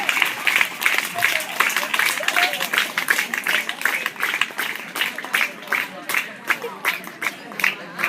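Students and audience applaud at a school prize-giving ceremony, a lively round of clapping with uneven, pulsing rhythm that thins and grows sparser toward the end, with voices mixed in.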